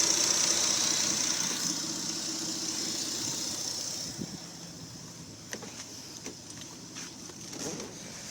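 A 3G Mitsubishi Eclipse with a 6G75 V6 idles steadily after a misfire repair, a close, even engine hum with a faint high whine early on and a few light clicks and knocks later.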